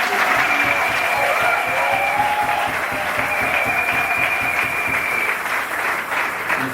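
A church congregation at a thanksgiving service for a pastor's ministry claps steadily and loudly, dense sustained applause with a few cheers and a high ringing tone running through it.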